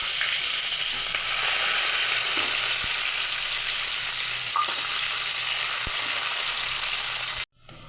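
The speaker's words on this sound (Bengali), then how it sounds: "পেঁয়াজটা লাল করে ভেজে নেবো।" Onions and cumin fry in hot oil in a kadai, producing a loud, constant hiss and crackle with a few faint knocks, before the sound cuts off abruptly near the end.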